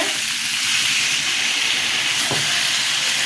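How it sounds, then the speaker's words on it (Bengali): Water poured into a pan of sautéed potato and papaya curry sets off a strong, steady hiss and sizzle of steam, close and continuous, with a brief crackle partway through. "আমি এবার জল দিয়ে দিচ্ছি কষানো হয়ে গেছে"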